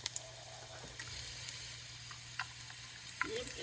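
Garlic frying in a pan for tacos makes a steady, low sizzle with a soft hiss and a few faint clicks from stirring. It stays quiet and fairly even throughout.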